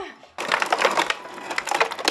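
Ice cubes tumble into a blender jar holding almond milk and water for a smoothie, a sudden loud clattering crunch that starts after a brief quiet moment and rattles on unevenly, alone with no talk.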